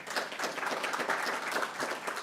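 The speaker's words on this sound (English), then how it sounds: "Round of applause, please." Applause from an audience at a Native American Heritage Month kickoff event, a steady dense patter of many hands clapping throughout, fairly distant and moderately quiet.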